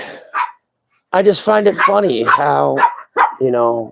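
A dog barks in the background, a couple of short yips at the start, then someone talks over the faint barking.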